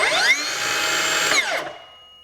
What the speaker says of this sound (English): so let's start this saw up and listen.